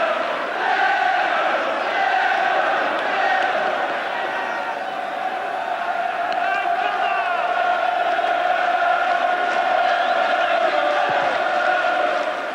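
A large football stadium crowd at Millwall versus Liverpool in 1989 roars and applauds continuously, a dense wash of cheering and clapping with a commentator's voice partly under it.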